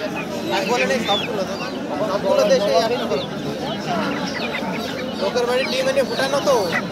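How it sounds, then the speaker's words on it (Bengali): Desi native chickens and ducks at a busy Bengali poultry market, clucking in scattered bursts beneath constant crowd chatter and vendors talking nearby. "এগুলো দেশি মুরগি কাকা"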